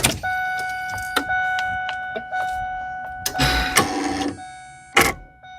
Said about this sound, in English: You guys definitely heard the servo motor kick on.